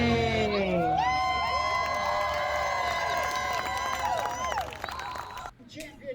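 A large crowd at a demolition derby screams, whoops and cheers loudly and continuously, with high shrill voices and shouts layered over one another before the roar drops off at the end.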